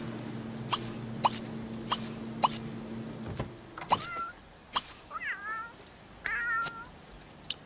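A cat in The Sims 3 video game gives three short, distinct meows, each a second or so apart. Rhythmic ticking clicks come before them, and no one speaks.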